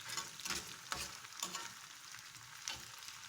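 Soft sizzling of tomatoes frying in a pan with rock salt, a few scraping stirs at intervals, quiet and close, no voices.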